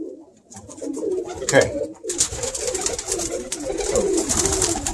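Pigeons coo in a loft, low soft murmuring coos repeating close by throughout with a rustle of wings, while someone says a brief word over them.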